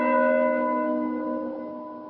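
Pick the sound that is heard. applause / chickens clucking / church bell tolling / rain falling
church bell tolling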